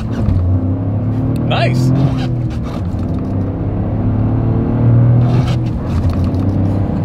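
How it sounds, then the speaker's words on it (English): A 2024 Toyota GR Corolla accelerating hard from a standstill in snow, its engine rumbling and rising in pitch through the gears, close and loud, with people talking and exclaiming over it. "let's see how quickly we can get our new 2024 GR Corolla here up to speed"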